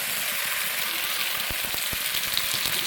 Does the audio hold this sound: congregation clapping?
no